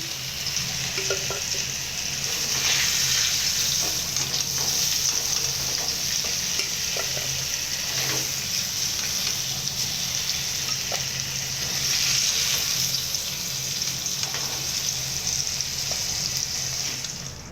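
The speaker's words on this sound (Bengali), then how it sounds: "অবশ্যই এইভাবেই ভেজে নেবেন আপনারা দেখুন" Young jackfruit frying in a pan, a steady loud sizzle running throughout with occasional stirring scrapes and no talking.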